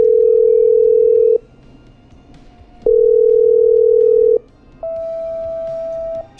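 Telephone line tones in the video game Killer Frequency, loud and clean: a steady tone sounds twice in long bursts with short gaps, then a slightly higher tone holds, with no talk.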